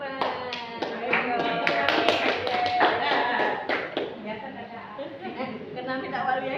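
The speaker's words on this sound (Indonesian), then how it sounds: "Tepuk tangan." Clapping from a group at a teachers' duty-assignment meeting at SMP Negeri 2 Mentok, a fairly steady patter of hand claps and taps lasting several seconds with people talking over it throughout.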